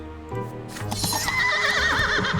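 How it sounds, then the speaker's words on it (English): Horses neigh loudly in the video game Life and Suffering of Sir Brante, a long, shrill, wavering whinny that rises and holds for about two seconds over a dense layer of background noise. "filling your ears with clanging steel and the neighing of horses"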